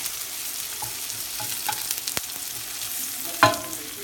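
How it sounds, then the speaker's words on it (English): Onions sizzling in olive oil in a hot pan pulled off the heat, a soft, steady frying hiss with a few light stirring scrapes and one sharper clatter near the end. "You want to see the sizzle there, okay?"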